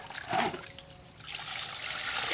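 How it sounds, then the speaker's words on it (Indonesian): Well water poured from a container onto cow manure compost, a steady close trickle and splash running for a couple of seconds with a brief louder gush near the start. "Nah, kemudian langsung kita siram dengan air sumur."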